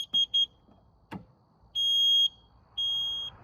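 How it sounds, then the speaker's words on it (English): A Kerdom 4-wheel portable mobility scooter sounds its mode-change alarm when drive or neutral is engaged: two short high electronic beeps, then two longer sustained tones, close and clear, with light clicks between. "you do get that auditory alarm informing you that you have changed the drive mode, put it into neutral, or put it into drive"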